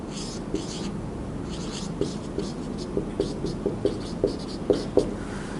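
A pen scratches across paper during a maths lesson on algebraic expressions, with short strokes and taps in an irregular rhythm. The writing is close and moderately loud, with faint background noise and no clear talk.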